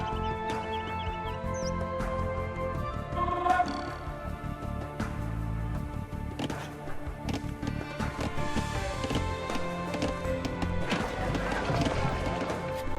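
Horses in the Age of Empires II real-time strategy game, with hooves clattering and scuffling amid game music and effects, mid-level and continuous, a few sharp knocks standing out.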